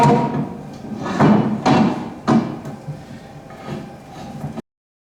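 Steel pallet forks slide onto a tractor loader bucket with several scraping metal clanks and knocks close by, then stop.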